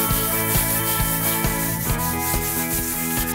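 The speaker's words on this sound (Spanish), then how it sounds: "Sí necesita lo que acabamos de hacer, que es lijar suavemente" Continuous rhythmic rubbing of sandpaper over smooth melamine, close and fairly loud, with regular back-and-forth strokes and no talking.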